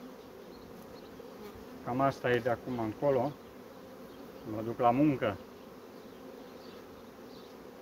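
Honey bees hum as a continuous low drone around a stationary apiary hive, steady throughout while someone speaks briefly twice over it.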